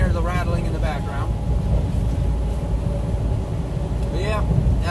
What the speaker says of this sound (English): I'm sure you can hear the rattling in the background.